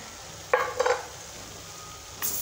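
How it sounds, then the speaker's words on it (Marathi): Short scraping stirs of a spoon through onions, gram flour, turmeric and red chili powder in a pan, with a couple of quick strokes close by and quiet gaps between them. "हे सर्व मिक्स करून घेऊ या कांद्यामध्ये आणि बेसनामध्ये"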